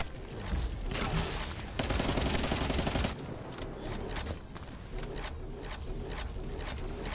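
Rapid bursts of automatic gunfire in the video game The First Descendant rattle loudly for several seconds, then give way to scattered, quieter shots.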